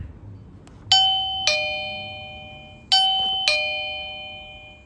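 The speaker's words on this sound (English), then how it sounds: "Please press the doorbell." A video doorbell, the AOSU 5MP, chimes two ding-dong tones, pauses, then rings the same two-note chime again, clear and ringing out in a quiet room.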